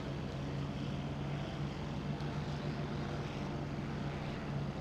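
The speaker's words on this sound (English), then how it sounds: "Here's a plane flying around." A propeller warplane drones steadily in the IL-2 Sturmovik flight game, a continuous low engine hum with a strong tonal core that holds even and moderately loud throughout, with no voices over it.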